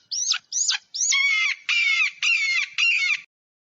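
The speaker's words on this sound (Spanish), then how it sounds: "Águila." Six loud, harsh, squawking eagle calls in close succession, the first three short and hooked, the last three longer and rasping, heard alone with no background sound and ending in silence.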